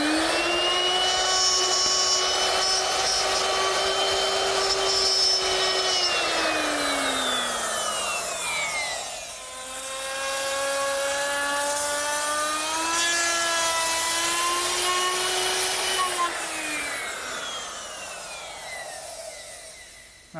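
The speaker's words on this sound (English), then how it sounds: "I've put a 1/2 inch dovetailing bit in my router, and I'm going to make a little short pass at the bottom of this rabbet" Router fitted with a 1/2 inch dovetail bit cutting wood in a workshop: a loud, close, sustained high whine that holds steady, drops in pitch as the bit loads into the cut, then rises again, continuous with no talk.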